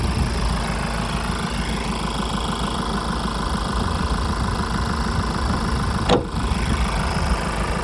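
Ford S-Max 2.0 with a 190 hp engine idling steadily and quietly, a smooth, even low rumble running throughout with a brief sharp click near the end.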